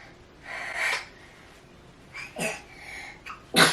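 Several short, breathy bursts: two soft sniffly puffs followed by a sharper, louder sneeze-like blast at the end, close and with no talking.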